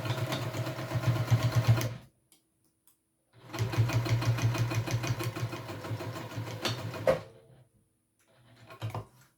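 A sewing machine stitches a backpack seam in two steady runs of rapid needle strokes, with a pause between and a brief final burst, close and clear with no talk.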